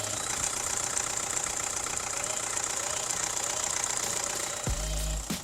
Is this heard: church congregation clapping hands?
no